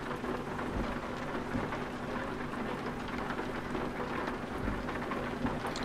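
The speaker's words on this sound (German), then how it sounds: "Ich hasse Regen." Steady heavy rain pours continuously in Euro Truck Simulator 2 while low rumbles of thunder roll underneath, with no talking.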